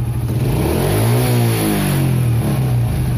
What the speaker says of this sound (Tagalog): kahit na luma ang inyong motor maganda pa rin yung performance ito kahit ibirit mo pa